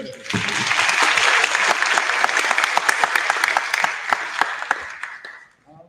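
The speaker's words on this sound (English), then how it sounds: "Big round of applause for her." A room full of people clapping for a panel moderator at a sustainable buildings showcase evening, steady dense applause lasting several seconds before fading out at the end.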